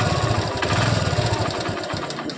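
A Honda Dream Yuga motorcycle engine idles steadily after a half-engine repair, a loud, continuous low chugging with a faint irregular ticking running through it.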